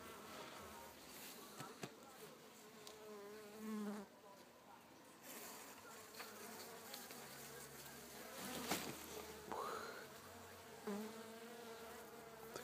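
Honey bees buzz in an opened hive after a 10% iodine tincture treatment for nosema. The colony is slightly agitated, and the dense, steady hum continues throughout, close to the hive, with occasional handling noises.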